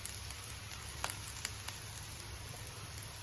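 Curry leaves, green chillies and ginger-garlic paste sizzling in hot oil for fish mappas, a continuous fine crackling hiss with a few brief pops, steady and moderately quiet, with no talking.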